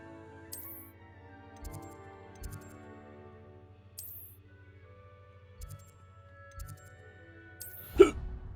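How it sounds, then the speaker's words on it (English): Someone hiccups repeatedly during a Hogwarts Legacy gameplay session, several short sharp gulps spaced irregularly over soft game background music, with one louder hiccup near the end. "I have the hiccups right now."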